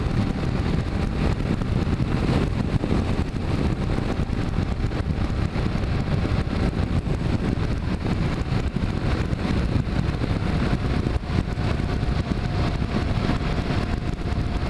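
A motorcycle climbs a big hill on a test ride after a valve adjustment, its engine droning steadily and close under constant wind buffeting, with no clear gear changes.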